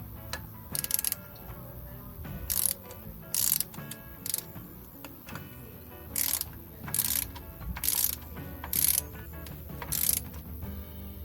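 A torque wrench ratcheting while tightening engine bolts on a Land Rover 300TDi engine, close and clear, with short ratchet bursts repeating at a steady rhythm over a low background hum.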